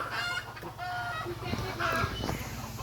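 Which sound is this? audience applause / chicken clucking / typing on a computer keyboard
chicken clucking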